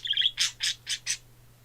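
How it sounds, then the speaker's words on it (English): Pet parakeets give a quick trill and then four evenly spaced chirps, clear and fairly close, against a faint steady hum, with no voices. "The birds I own are parakeets. They're both parakeets."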